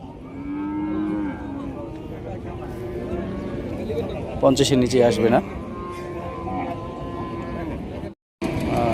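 Cattle low at a busy village cattle market, a clear loud moo rising midway amid a constant crowd murmur as people haggle and talk nearby.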